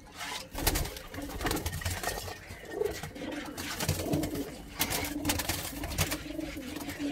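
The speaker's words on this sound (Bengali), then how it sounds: "ওটা কালা জিরিয়া পায়রা, কালো জিরিয়া" Kala Jiria pigeon, among young and adult birds in a loft, gives low repeated coos close by. Soft clatter and rustling run throughout, with no voice heard.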